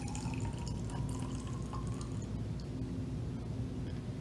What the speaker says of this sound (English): So we're gonna pour some of that green water in there.